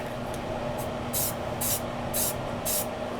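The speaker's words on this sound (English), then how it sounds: "So now I'm going to take my straight edge and I'm spraying up here." Short hissing bursts of a spray paint can sprayed along a straight edge for street art, four or five quick sprays with brief pauses between, close by over a steady low background hum.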